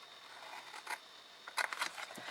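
Quiet snipping of scissors through paper, a few short crisp cuts in an otherwise hushed room.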